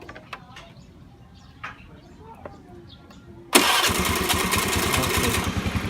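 A motorcycle with a hard-starting problem, suspected to be a faulty starter relay, fires up after some quiet clicks and handling noises, then keeps running close by with a steady, loud idle.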